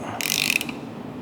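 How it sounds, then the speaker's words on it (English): A ratchet fitted with a number 19 socket tightens the bolts on a Paris table base, giving one short, close burst of quick clicking that lasts about half a second in a quiet room. "then your number 19 socket. Make sure that that's nice and tight."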